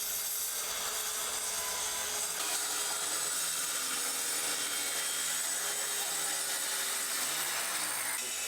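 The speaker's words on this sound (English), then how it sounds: "trimmed the tops of all the floorboards to get a clean," A power saw trims the tops of wooden floorboards during a stone house renovation, giving a steady, continuous whining rasp across the whole stretch with no talking.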